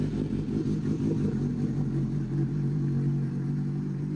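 A Suzuki GSX-S 750 motorcycle idles steadily close by, a low, even engine burble holding constant throughout with no revving.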